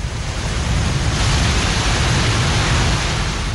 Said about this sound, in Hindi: पानी का शोर सिहरन पैदा कर रहा है।